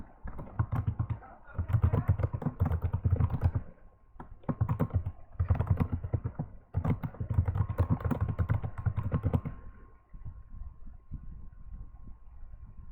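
Typing on a computer keyboard while building a simple website layout, bursts of rapid close key clicks separated by short pauses, with a faint steady hum underneath.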